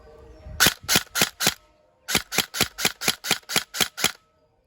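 An MK18 airsoft electric gun with electric blowback shoots in semi-auto, a loud snappy shot with mechanical clack, first four in a quick row, then a pause and nine more at a steady brisk pace, close up.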